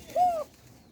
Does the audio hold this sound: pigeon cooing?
yes